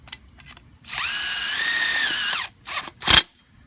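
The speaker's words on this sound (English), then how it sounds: "Install 1 screw at the top." A power drill drives a self-tapping screw into a metal railing, a close, loud whining motor burst of about a second and a half that then winds down, followed by a few short clicks and a clunk.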